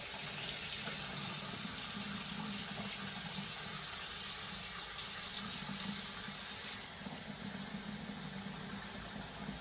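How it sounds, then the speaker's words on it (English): Rice is washed in a sink under running water, a steady, close rush of water that continues throughout with a slight drop in level near the end. "the rice, when it first is packaged, is very starchy, and by doing this, we are washing out the starch"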